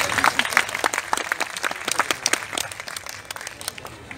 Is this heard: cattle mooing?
no